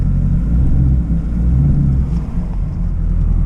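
A Chevrolet Camaro SS 1LE fitted with Continental DWS 06 tires sits running in the snow, its engine giving a steady, loud, deep rumbling idle with no voices.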